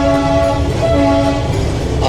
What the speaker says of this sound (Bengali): কার্শিয়াং সিটি দিয়ে টয় ট্রেন এগিয়ে চলেছে